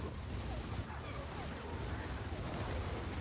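Steady suppressing gunfire in Gears of War 4, a dense continuous rattle of shots without clear gaps, held at moderate level for the whole stretch.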